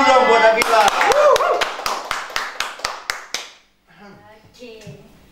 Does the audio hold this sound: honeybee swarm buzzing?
no